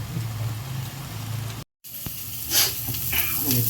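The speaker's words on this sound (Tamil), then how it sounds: "தோசை கல் எண்ணெயை ஊற்றி அந்த மீனை பொரி." Fish frying in oil on a dosa griddle gives a steady close sizzle and hiss. The sound cuts out for a moment, then comes back with brighter crackling spatters.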